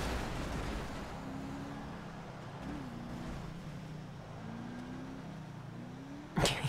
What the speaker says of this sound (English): This truck is so slow.